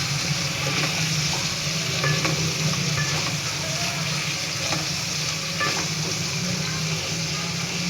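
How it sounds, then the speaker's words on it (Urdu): Potatoes and carrots for aloo gajar fry in oil with a dense, constant sizzle, with stirring scrapes and clinks scattered through the bubbling. "اس کو اچھی طرح ہم آئل کے اندر فرائی کر لیں گے، 5 سے 6 منٹ تک ہم اسے اچھی طرح فرائی کر لیں گے۔"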